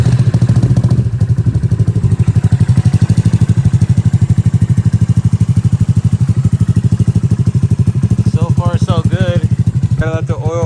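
A Honda Grom motorcycle fitted with stiffer clutch springs and a billet clutch plate catches and settles into a loud, close, steady single-cylinder idle with an even putter. Someone talks briefly near the end.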